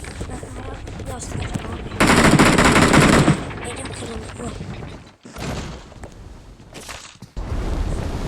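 Rapid gunfire from a video game, a dense burst lasting about a second, loud and close, over a steady game soundscape with quieter shots around it.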